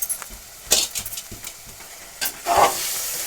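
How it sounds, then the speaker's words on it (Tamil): Chicken fries in a pan for biryani while a spoon stirs it, producing quiet sizzling broken by several crisp scraping and clinking strokes against the metal. "இப்போ நல்லா கிண்டி விட்டுக்கலாம்."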